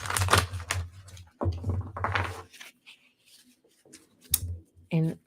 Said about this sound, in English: StreamYard doesn't mute the loud, like shuffling sounds and stuff